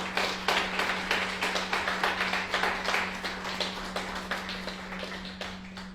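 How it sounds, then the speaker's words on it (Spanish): A church congregation claps together in a steady, regular rhythm, forming a fairly close, dense wash of hand claps over a low constant hum, with no talking. "Den un aplauso al Señor si quieren."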